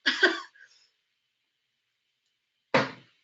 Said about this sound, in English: Hang on, I'm going to cough.